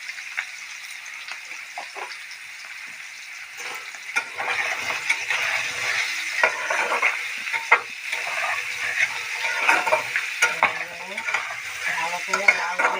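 Turmeric and salt fry in a pan, with a steady close sizzle growing louder partway through and frequent scraping, stirring clicks over it.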